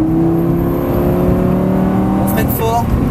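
A Lamborghini Gallardo engine droning at high revs on the Folembray racing circuit with a steady tone, while someone talks over it; a brief higher whine near the end.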